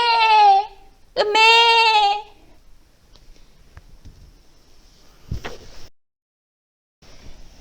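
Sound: sheep bleating

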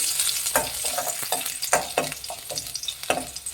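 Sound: peeled garlic frying in hot oil

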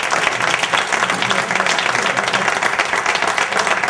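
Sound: audience applause

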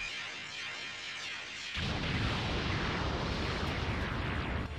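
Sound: Aqua Buu's hell bullet explosion in the video game Dragon Ball The Breakers

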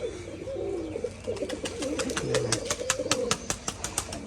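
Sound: pigeons cooing

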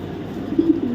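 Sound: racing pigeon cooing

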